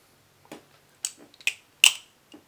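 Glidr Original 3 balisong butterfly knife being flipped, giving a handful of sharp, separate clicks and snaps spaced irregularly over a couple of seconds, close and fairly crisp with quiet gaps between them.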